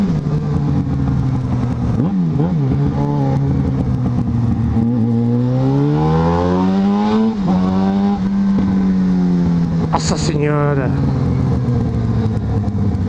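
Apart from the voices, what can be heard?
Yamaha XJ6 motorcycle engine revving loudly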